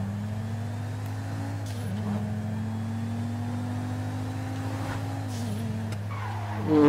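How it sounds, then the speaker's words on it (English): A steady engine drone from an Audi R8 sports car in Grand Theft Auto V, with pitch rising and dipping slightly as it revs, then a brief surge in loudness at the very end. "I'll let you hear the car for a minute."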